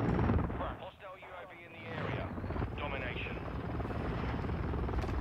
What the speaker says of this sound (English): how do they already have a chopper?